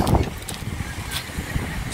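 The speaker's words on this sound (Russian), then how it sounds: "Ветер сильный" Strong wind blows across a Black Sea beach at Lazarevskoye, Sochi, buffeting the microphone with low rumbling gusts and irregular bursts over a constant rushing background.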